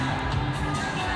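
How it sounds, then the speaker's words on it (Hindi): Dense crowd noise on Fremont Street in downtown Las Vegas at night, a steady loud wash of many voices and scattered shouts with no single voice standing out. "काफ़ी भीड़ होती है पूरी रात तक"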